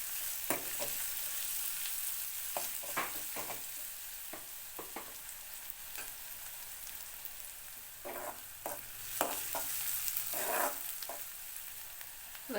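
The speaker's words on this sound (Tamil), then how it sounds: "வெங்காயம் வதங்கட்டும்." Onions sautéing in a pan give a quiet continuous sizzle while a spoon scrapes and taps through them at an irregular pace, up close with no talking.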